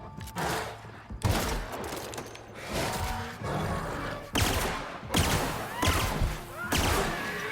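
Gunfire in The Outer Worlds, heavy repeated shots and bursts arriving in loud clusters through the span, with combat rumble between them and voices speaking intermittently.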